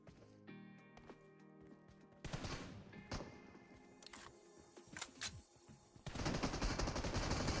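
Gunfire from PUBG Mobile during a competitive grand finals match, bursts of rapid automatic shots and single cracks over game ambience, ending in a loud sustained barrage.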